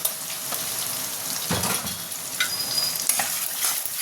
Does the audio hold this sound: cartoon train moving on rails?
no